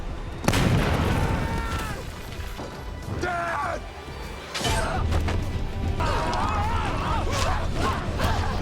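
A bomb is thrown and explodes in a TV drama scene: a sharp blast hits early, followed by clattering debris, then a second heavy crash and rumbling aftermath, close and loud.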